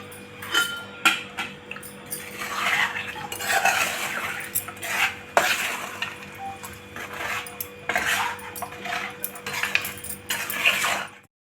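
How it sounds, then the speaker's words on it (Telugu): Chicken pickle is mixed into hot rice on a plate, with repeated clinks and scrapes of a steel plate and cutlery at close range. The clicks come in irregular bursts and no voices are heard. "చికెన్ పికిల్ రెడీ అయిపోయింది కదండి వేడి వేడి అన్నంలో కలుపుతున్నాము"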